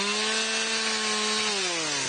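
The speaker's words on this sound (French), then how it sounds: "Alors, un coup de tronçonneuse" A loud motor whine holds a steady pitch, then drops as the chain bites into wood, a chainsaw cutting close up with no talk.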